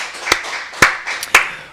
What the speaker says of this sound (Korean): 우리 박수를 하나님께 드리겠습니다.